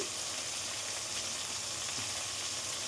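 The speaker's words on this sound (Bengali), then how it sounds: "এখানে কিন্তু মাছ ভাজা অনেকটা হয়ে গেছে" Lote (Bombay duck) fish frying in oil in a pan for a Bengali fish curry, giving a steady, even sizzle throughout, moderately quiet and with no voices.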